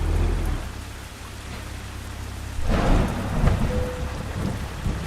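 Rain and thunder from a truck driving video game: a steady hiss of rainfall with a deep rolling thunder rumble swelling in partway through, loud and close.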